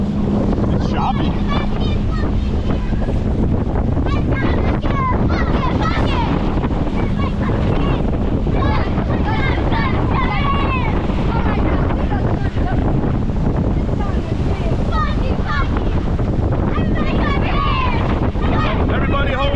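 A banana boat rides over choppy sea water off Panama City Beach, with constant wind roar buffeting the microphone and rushing water, as riders shout and talk over the din.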